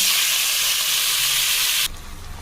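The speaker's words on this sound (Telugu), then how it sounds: "ఇప్పుడు ఇందులో మనం మ్యాగ్నేట్ చేసుకొని చికెన్ వేసుకుందాం" Marinated chicken hits hot oil with cashews and caraway in a pan, giving a loud, steady, close hiss of frying that drops abruptly near the end to a quieter sizzle.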